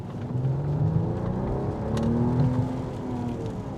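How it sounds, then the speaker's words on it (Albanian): A Mercedes-Benz W223 S500 with a six-cylinder engine revs steadily, its tone rising and falling over nearly four seconds, moderately loud and close, with no voices. "Zhurmën se ka të keqe, 6 piston që është."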